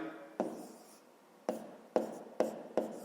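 Pen or pencil on paper jotting the first step of a fifth-grade maths exercise, a handful of sharp close scratchy strokes and taps with short pauses, no talking.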